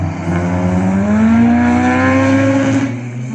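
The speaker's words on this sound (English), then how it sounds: "The two Porsches." Two Porsche race cars roar past on the Cadwell Park circuit, a loud, steady engine note climbing in pitch and then easing slightly as they pass close by.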